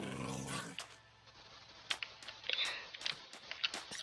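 A dog in Minecraft growling and snapping, biting at a fox, giving a low growl early on and then a run of sharp, quick bursts of biting and scuffling sounds, fairly faint and with no talk.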